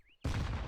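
A grenade bursts during a Counter-Strike match at a major esports tournament, a sudden loud blast after a faint rising whistle, followed by a dense sustained rumble of explosion and gunfire.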